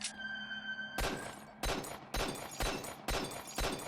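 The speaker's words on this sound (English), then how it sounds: "It's making glass breaking noises." Glass shattering from gunshots in S.T.A.L.K.E.R. Shadow of Chernobyl, about five sharp crashing impacts in a rough rhythm after a brief electronic tone, each bright and fairly loud.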